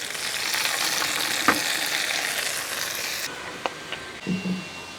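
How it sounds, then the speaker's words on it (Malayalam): Hot tempering poured into pulissery, a Kerala yogurt curry, sends up a loud, bright sizzle that cuts off abruptly, followed by a few utensil knocks and clatters. "ഈ താളിച്ചത് നമുക്ക് അങ്ങോട്ട് ഒഴിച്ചു കൊടുക്കാം"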